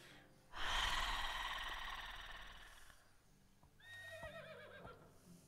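A horse in the medieval life-sim game Medieval Dynasty lets out a loud, close whinny lasting about two seconds, followed by a breathy snort and faint hoof clatter, with no talking over it.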